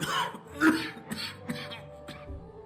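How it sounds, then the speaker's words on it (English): A few rough coughs and throat-clearing bursts from a video game character, spaced unevenly over a couple of seconds, close and moderately loud. "A cough like that"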